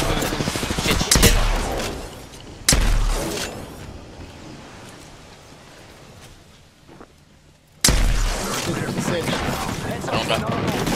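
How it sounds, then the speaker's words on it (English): Gunfire bursts from a Valorant-style tactical shooter match, loud crackling volleys in the opening seconds, a quieter stretch, then another dense burst near the end, with players talking over the action. "They're shooting."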